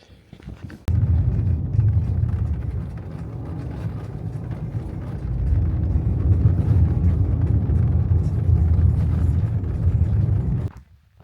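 A car driving through the Turkmenistan desert, heard as a loud steady engine and road rumble with wind buffeting, starting abruptly and cutting off near the end.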